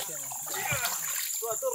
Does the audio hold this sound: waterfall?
yes